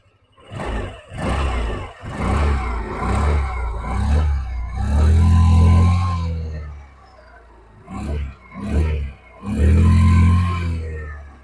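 A 125cc Hero Destini 125 XTEC scooter engine runs close by and is revved several times, rising swells of a mid-pitched engine drone with short dips between them.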